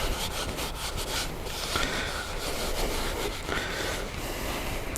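Paper towel rubbing canola oil over the side of a Dutch oven before cooking potatoes, a steady close scrubbing and wiping friction that runs continuously without pauses.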